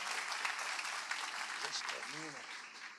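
A church congregation claps during a worship service, a faint, dense spread of applause that runs the whole time, with a short burst of voice partway through.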